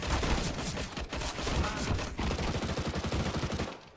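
Rapid automatic gunfire from a CSGO competitive match, loud and close, with dense bursts of repeated shots and a brief gap before a steady rattling volley.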